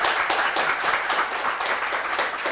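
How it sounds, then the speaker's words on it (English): An audience at a book discussion gives Professor M D Nalapat a sustained round of applause, dense overlapping clapping at steady volume throughout, with no clear speech. "please give us a huge round of applause for our Professor Nalapat"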